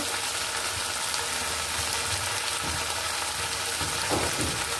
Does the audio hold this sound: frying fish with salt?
yes